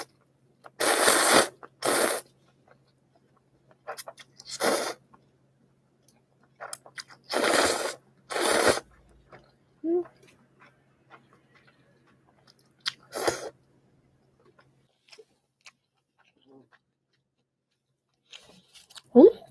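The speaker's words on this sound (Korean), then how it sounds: "엄청 맵기로 유명하다는 그 만두 먹어보도록 하겠습니다" Spicy dumplings from a Cheongju shop being eaten during a mukbang, with close, crisp bursts of biting and chewing in irregular clusters separated by quiet pauses.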